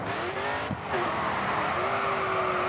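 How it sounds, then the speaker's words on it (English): Car drifting through a corner in the racing video game Grid 2, with a steady engine drone and a long tire squeal that drops, breaks briefly, then rises and holds, loud and continuous throughout. "Next corner, let's see a drift."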